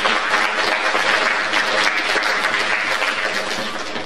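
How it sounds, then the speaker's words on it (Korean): At a 2024 girls' high school entrance ceremony, a large audience breaks into loud, dense, sustained clapping that fills the hall without a break. "박수 한번 주시죠."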